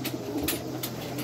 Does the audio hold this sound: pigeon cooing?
yes